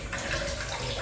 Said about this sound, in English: Drain that water right now.